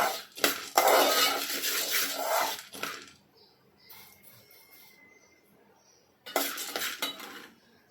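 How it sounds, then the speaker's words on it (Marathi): Roasted gram (dalia) dry-roasted in a pan for poha chakli, with loud rattling and scraping of the spoon against the metal, then a quiet pause before the stirring clatter resumes. "आता आपण डाळ्या भाजूया डाळ्या पण चांगल्या भाजून घ्यायच्या"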